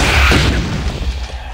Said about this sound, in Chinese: 又爆炸了